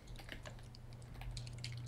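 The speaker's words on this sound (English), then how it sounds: "I hate speed typing." Fast typing on a computer keyboard, a rapid, uneven patter of close, crisp key clicks over a low steady hum, with no talking.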